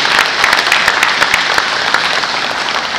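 A crowd claps steadily at a retirement party, close and dense, with a warm, even patter of many hands sustained throughout and no voices standing out.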